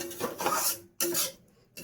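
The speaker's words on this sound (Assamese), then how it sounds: "এতিয়া আৰু ভালদৰে ভাজি ল'ম এইখিনি" Scraping and clinking of a utensil against a pan in two bursts, with a soft frying hiss of soybean chunks underneath, close by and moderately loud.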